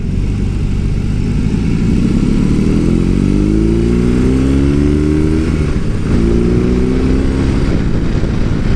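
BMW R18 bagger motorcycle with its big 1800cc boxer engine and stock pipes, a loud, deep rumbling exhaust rising and falling in pitch as it revs, close and continuous throughout.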